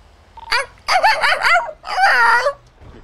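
A small chihuahua barks in a quick series of sharp, yappy bursts heard through a radio during a GTA roleplay scene, with a short gap between bursts and faint background noise.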